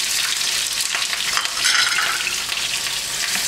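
Onion frying in a pan on the stove, a steady close sizzle and crackle that swells briefly midway and carries on alone without any talking.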